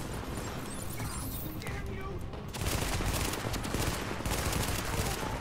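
Gunfire in The Division beta on PS4 during a combat mission, with dense bursts of automatic fire that swell sharply after a moment into sustained rapid shooting, loud and close.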